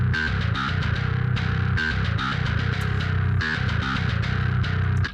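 Djent bass VST with its Glass preset playing a heavy, chugging riff: tight palm-muted low notes in rapid rhythmic bursts, punctuated by bright, clanking accents, loud and alone until an abrupt stop.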